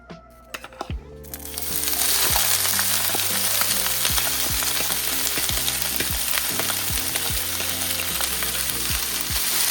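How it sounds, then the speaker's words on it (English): Vegetables with seasoning sauté in a pot for Jamaican corned beef and cabbage, starting with a few clatters before a loud, steady sizzle sets in, broken by repeated scraping strokes of a spoon. "Saute your veggies."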